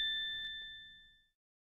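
A single clear notification bell ding, a bright metallic chime that rings out and slowly fades over about a second, alone and quiet.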